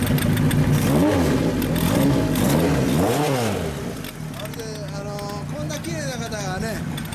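A 1974 Kawasaki Z1A 900 Super Four motorcycle fitted with a Yoshimura exhaust revs repeatedly, its engine note climbing and falling in several loud close blips, with people talking over and between the revs.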